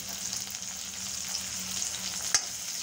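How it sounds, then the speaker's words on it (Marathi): Finely chopped red capsicum fries in a pan, giving a steady close sizzle with faint stirring scrapes and a single sharp clink near the end, and no speech. "हे रेड कॅप्सिकम बारीक कापलेले तुकडे त्याच्यामध्ये टाकून खलखलचं थोडे 2 सेकंदासाठी हे सर्व काही"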